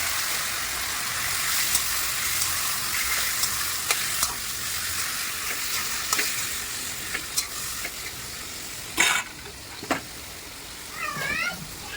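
Marinated chicken sizzles in a hot pan with a steady hissing fry, with scattered stirring scrapes and clicks, a louder burst of spatter around the ninth second, and a cat meowing briefly near the end.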